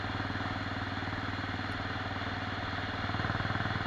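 A Norton International Special motorcycle engine runs steadily nearby, a close, even throbbing drone with a fast low pulse that holds the same pitch and loudness throughout, with no voices.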